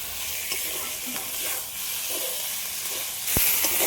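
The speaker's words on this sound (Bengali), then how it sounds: "ডিমটাও আলুর সাথে একটু হালকা করে নেড়ে নিয়েছি" Fried duck eggs and fried potatoes are stirred into a sizzling spiced masala, with a close, steady frying hiss and faint scrapes of the spoon.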